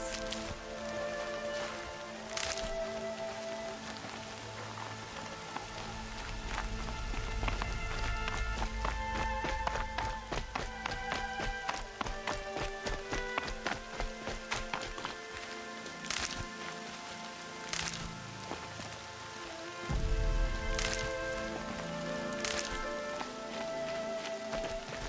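Steady rain patters through an outdoor scene in the video game Horizon Zero Dawn, a continuous wash of drops under game music and occasional footsteps, with no speech.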